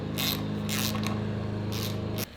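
Mechanical clicking and ratcheting as a brake lever piece and its small nut are screwed onto an Indian Scout motorcycle, a steady close, busy texture with a low hum underneath that stops abruptly near the end.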